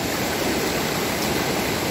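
Creek water rushes through a culvert after a diversion on an off-grid property, a loud, steady, broadband roar of flowing water with no pauses or voices.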